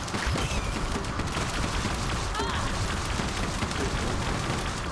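Chimera weapons fire continuously in the mobile game Evolution 2: Battle for Utopia, a dense, unbroken barrage of blasts and crackling energy that stays loud and even throughout.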